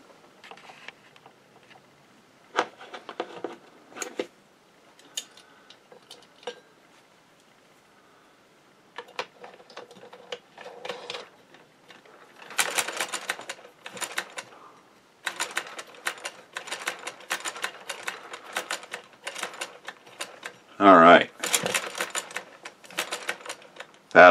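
A restored Singer 99 sewing machine, still unoiled, runs in short bursts of rapid mechanical clattering and ticking separated by brief pauses, close and fairly loud, with a sharper rattling burst near the end.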